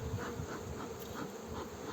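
A dense, steady buzz of many honeybees in an open six-frame hive, close and constant, with no voices.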